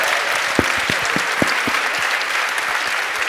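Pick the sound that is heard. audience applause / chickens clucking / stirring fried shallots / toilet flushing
audience applause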